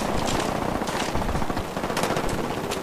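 Rapid automatic gunfire in a video game, with a dense, continuous burst of sharp shots running the full length, loud and close, with no talking.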